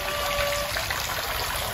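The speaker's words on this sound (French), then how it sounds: "Et Casey s'amuse à la fontaine" A village fountain gushes in a loud, steady rush of splashing water that fills the whole short stretch, with no voices heard.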